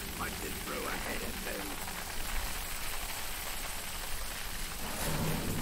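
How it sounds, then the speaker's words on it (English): Steady, loud rain in the video game Middle-earth: Shadow of Mordor hisses throughout, a dense wash of drops with faint low rumbles and some background voice underneath. "the rain is so fucking loud"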